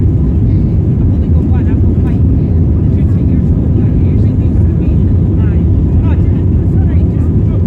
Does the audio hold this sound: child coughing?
no